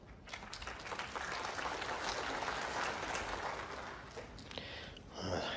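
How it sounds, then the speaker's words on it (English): Quiet applause from the crowd at a snooker match at the China Championship, following a positional shot, a few seconds of soft, even clapping heard from a distance that fades toward the end. "applause for a good positional shot there from Sean"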